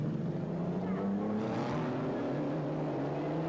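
Historic Grand Prix racing cars, including a 1956 Maserati 250F, battle through a downhill corner at the 1996 Phoenix Park Motor Races, with close, loud engines droning and shifting pitch as the cars pass.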